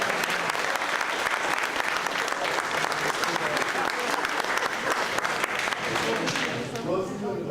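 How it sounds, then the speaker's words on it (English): A church congregation at a Sibling Communities gathering bursts into sustained, dense clapping that stays loud and steady before thinning out near the end, with voices mixed in. "Give them a round of applause."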